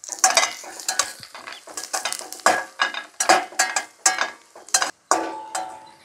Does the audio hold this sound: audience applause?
no